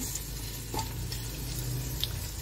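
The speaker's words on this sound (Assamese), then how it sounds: "মই খাচীৰ মাংসখিনি বহাই দিওঁ" Goat meat sizzling and frying in a pan seasoned with cinnamon, cloves and cardamom, a soft steady crackle with a few faint clicks and light stirring, close and fairly quiet, no talking.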